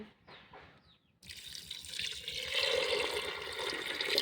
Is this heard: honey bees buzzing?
no